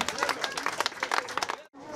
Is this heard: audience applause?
yes